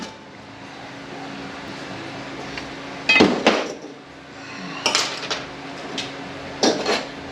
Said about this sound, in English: You go ahead and take these drums apart.